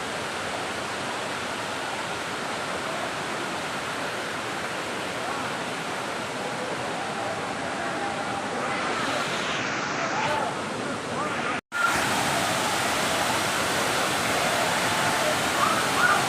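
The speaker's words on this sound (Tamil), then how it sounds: "இந்த அருவியை பார்க்க அவ்வளோ பிரம்மாண்டமாக இருக்கிற மாதிரி இருக்குங்க" Water rushing over rocks at the Panchalinga waterfall makes a steady, loud, broadband roar. It continues without a break for the whole stretch, with only a brief dip near the end.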